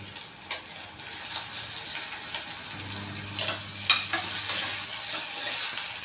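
Chopped tomato frying in oil with ginger garlic paste, a steady close sizzle with occasional spatula scrapes and stirring, no talking.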